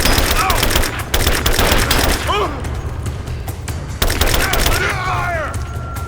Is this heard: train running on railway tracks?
no